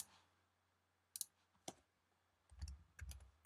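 Sparse keystrokes on a computer keyboard, a few isolated clicks followed by a quicker cluster of taps near the end, quiet and close with no talking.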